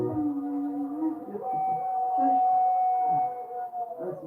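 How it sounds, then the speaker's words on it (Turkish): Dogs howl in a long, sustained, rising and falling wail, accompanying the evening call to prayer, with several overlapping voices near to mid-distance. "Bu ezan her an konduğunda köpekler oluyor farkında mısın?"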